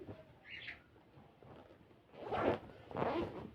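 A zipper on boys' clothing is opened in a few short, close rasping pulls, with a brief light zip near the start and two stronger pulls toward the end.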